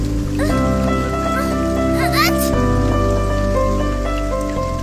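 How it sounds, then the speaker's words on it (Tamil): Heavy rain falls in an animated children's story, a continuous hiss of drops spread beneath loud, sustained music throughout. "மழை வேற அதிகமா பெய்யுதே."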